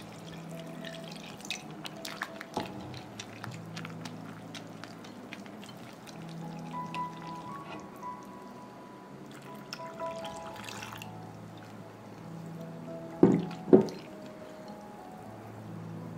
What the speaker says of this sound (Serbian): Zatim postepeno dodajem 480 ml vode